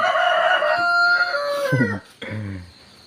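A free-roaming chicken crows loudly and close by, giving a long drawn-out call that breaks off and is followed by a shorter second burst.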